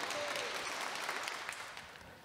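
Concert audience clapping for a singer named Katarzyna, a soft, distant patter of many hands that slowly thins out.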